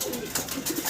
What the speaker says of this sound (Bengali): কবুতর দেখাচ্ছি আপনাদেরকে